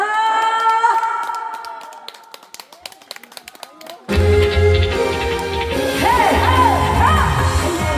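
At an outdoor festival concert where a singer has just performed a song, the music cuts off and a loud crowd takes over with clapping, cheering and whoops, voices calling out throughout.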